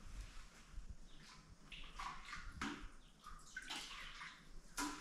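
Clean water poured into a bowl in a home kitchen while cooking, with irregular splashing and trickling at moderate loudness and faint background noise.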